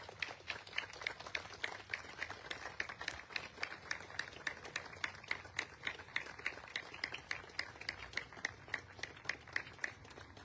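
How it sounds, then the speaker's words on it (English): Audience applause honoring veterans at a memorial ceremony, a dense, steady wash of many hands clapping that holds for the whole stretch at moderate volume with no voices on top. "join me in recognizing them with a warm and heartfelt round of applause for all they have given to our nation"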